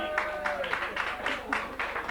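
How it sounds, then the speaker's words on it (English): A live audience gives a round of applause for a man introduced as Honky, the fairly faint clapping arriving in uneven bursts with a voice faintly present. "Come on, give him a round of applause, Honky."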